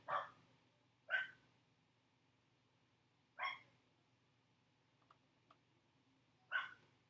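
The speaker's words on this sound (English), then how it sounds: "their dogs are outside barking, but we all hear it" A dog barks several times at a distance, sharp single barks spaced irregularly, with a faint low hum in between.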